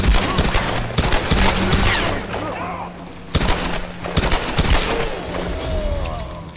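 Rapid bursts of gunfire from Tomb Raider: Definitive Edition, with loud repeated shots and booms in clusters, separated by brief lulls, over a busy game soundscape.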